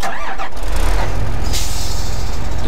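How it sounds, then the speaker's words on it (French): The Magnum tractor engine in a farming video game rumbles loudly and steadily close by, with a deep throbbing pulse and a brief hissing burst partway through. "Donc écoutez un petit peu le bruit du Magnum."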